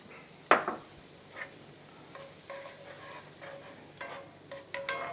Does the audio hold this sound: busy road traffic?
no